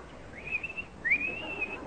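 Two sustained whistled phrases, each rising then holding a bright warbling pitch, mimicking a lark's song; clear and close with no talking.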